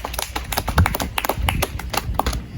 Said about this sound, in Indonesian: silakan tepuk tangan untuk kedua kelompoknya